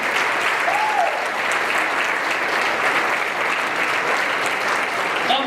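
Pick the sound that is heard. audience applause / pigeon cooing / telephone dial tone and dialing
audience applause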